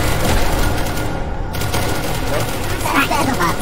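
Gunfire in the video game SCP: Secret Laboratory, loud rapid bursts of shots over dense, continuous game noise, with a short break in the middle and voices faintly in the mix.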